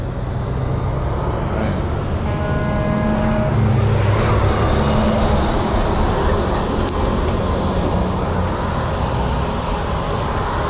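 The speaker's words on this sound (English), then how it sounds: "See all the traffic." Road traffic backed up in a jam on Route 40 near Perryville, Maryland, after an apparent accident: a steady, moderate rumble of idling and slowly moving vehicles, with a brief tonal horn-like note partway through.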